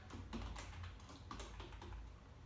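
Java code being typed on a computer keyboard, a quiet run of quick, irregular key taps close by with no talk.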